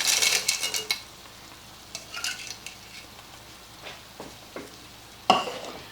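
Frozen peas and carrots tipped into a hot pan of Italian sausage, a burst of crackling sizzle, then spoon scrapes and stirring with intermittent frying pops, close and clear.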